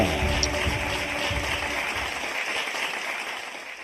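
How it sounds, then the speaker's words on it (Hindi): A studio audience at a live conversation event welcomes a poet guest with sustained applause, a dense even patter of many hands that holds steady, then gradually thins. "जितनी भी तालियां बजाएं कम है"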